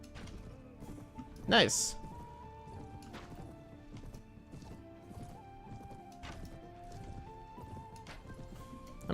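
Horse hooves from riding in the video game Mount & Blade Pendor, during horse archery practice, keep up a steady, moderately quiet clip-clop. One louder thump comes early, and a person speaks over the hoofbeats.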